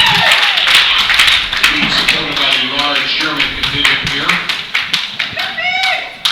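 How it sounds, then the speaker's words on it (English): A crowd at the 2017 IPF Classic Bench Press World Championship cheers and claps steadily, with scattered sharp claps and a commentator's voice running over the noise. "there's some Germans in the audience cheering her on."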